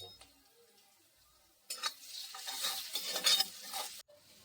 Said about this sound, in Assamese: পিঁয়াজখিনি ভাজি ল'ম ৰঙচুৱাকৈ